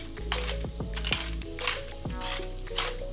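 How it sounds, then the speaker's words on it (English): Corn chowder vegetables and spices stirred in a hot sizzling pot, with a steady frying hiss and repeated scraping strokes of a spoon against the pot. "So stir that well until every piece in here is covered with the color from the spices"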